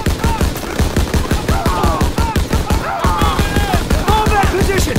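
Rapid, steady machine-gun fire from a Call of Duty WW2 battle, loud and close with rhythmic bursts, while shouted voices sound over the shooting.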